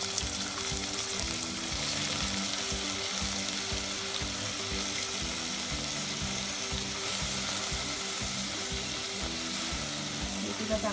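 Poha ingredients being sautéed in a pan, a steady close sizzle with a low background hum and soft stirring, even and continuous for about eleven seconds.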